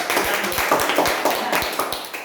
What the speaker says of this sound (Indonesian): Tepuk tangan buat kita Bapak Ibu.